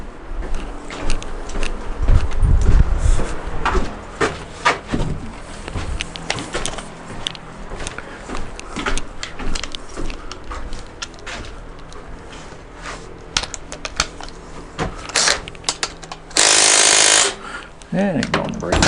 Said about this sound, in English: we'll get my speed wrench up in here